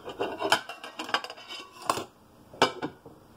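A metal lid clatters onto a cooking pot of jerk jackfruit, with a run of close clinks and scraping rattles, then two sharper metallic clanks as it settles.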